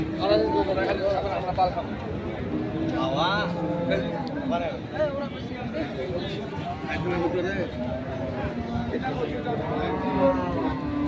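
Cattle, crossbred bulls at a busy livestock market in Ambari, Dinajpur, low from time to time beneath steady crowd chatter and nearby voices bargaining.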